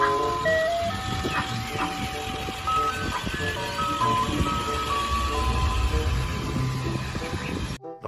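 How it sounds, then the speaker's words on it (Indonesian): A toy ice cream truck plays its tinny electronic jingle melody continuously, close and fairly loud, with faint background clatter and no talking. "ini truk es krim."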